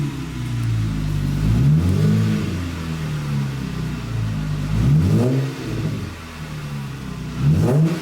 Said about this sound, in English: Open it up, rev a little.